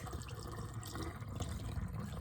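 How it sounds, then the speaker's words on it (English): Liquid trickles as it is poured into a spray bottle for a homemade mermaid spray, a faint, close, continuous pouring with soft gurgling and no talk. "We're going to just slightly pour this"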